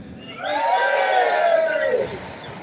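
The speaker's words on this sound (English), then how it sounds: "let us give a cheer for them" A crowd of protesters, children among them, cheers and shouts at a farmers' protest in London in one sustained swell of about a second and a half that fades out.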